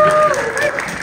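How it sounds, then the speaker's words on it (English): Brief burst of audience applause at a National Congress of American Indians gathering during a congressional leader's address, a steady clapping wash with a voice faintly over it. "that's an applause line"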